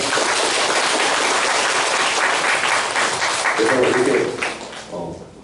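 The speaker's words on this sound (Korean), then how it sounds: "우리 응원의 박수를 부탁드리겠습니다" A church congregation claps steadily and fairly loudly for several seconds, a dense continuous applause that thins out toward the end.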